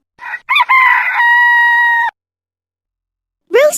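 A rooster crows once, loud and near, in a single drawn-out cock-a-doodle-doo, then a brief spoken voice follows after a short silence.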